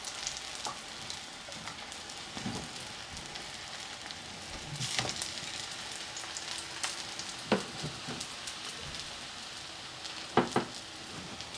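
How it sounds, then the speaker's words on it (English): Bread frying in a pan gives off a steady soft sizzle and crackle, with occasional louder pops and clinks from stirring or utensils, and no talking. "Frying the bread."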